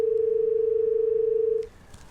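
A steady single-pitch telephone tone drones on its own after a dropped call, then cuts off abruptly, leaving faint background hiss.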